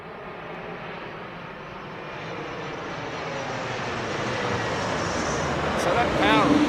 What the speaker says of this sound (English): that was actually him powering his engines up over the threshold